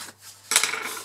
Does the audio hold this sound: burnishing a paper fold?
yes